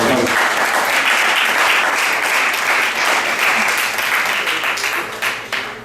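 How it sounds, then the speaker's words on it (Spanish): A church congregation breaks into loud, sustained applause, a thick, steady wash of many hands clapping throughout that thins slightly at the very end. "dar un aplauso que se entiende"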